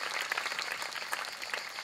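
Applause from an audience at the AcquiAmbiente 2017 award ceremony, welcoming a nutritionist professor as he approaches; dense, steady clapping fills the short stretch without voices.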